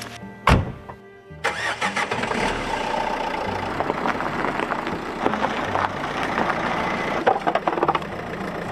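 A 4x4 car engine, a vehicle fitted out for camping, starts with a sharp burst and then runs steadily at close range while the car is being parked, a loud continuous rumble throughout.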